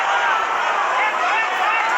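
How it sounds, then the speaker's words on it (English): A huge, loud boxing-match crowd roaring in a dense, continuous wall of noise. "One of the loudest crowds I've ever heard."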